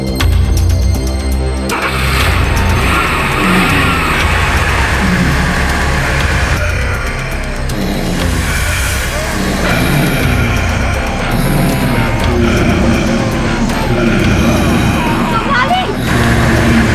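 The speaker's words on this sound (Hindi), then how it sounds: "गाड़ी चालू करो।" A car engine rumbles and revs in a tense horror-drama scene, the low engine noise running loud throughout beneath music and other effects.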